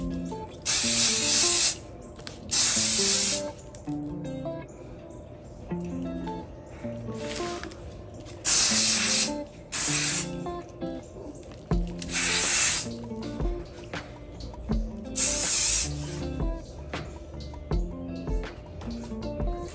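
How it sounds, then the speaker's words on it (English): Scotchgard protector sprayed onto the bottom of a Dooney & Bourke canvas handbag: several loud, hissing aerosol bursts a second or two long, separated by pauses, with no talking. "I'm going to spray the very bottom of this bag"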